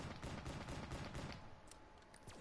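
Rapid gunfire from a Call of Duty zombies video game, Shadows of Evil map, a dense burst of repeated shots that loud at first and thinning slightly toward the end.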